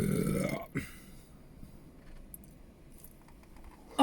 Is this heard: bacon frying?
no